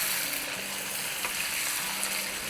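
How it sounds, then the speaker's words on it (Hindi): Bone-in chicken, about a kilo, fries in a pan over medium-high heat with a steady, dense crackling sizzle that holds throughout, and nobody speaks. "तो बस चिकन को हम इतना फ्राई करेंगे कि थोड़ा बहुत चिकन का कलर चेंज हो जाए"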